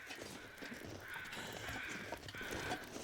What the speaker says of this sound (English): Man, I'm glad I heard those bear crows.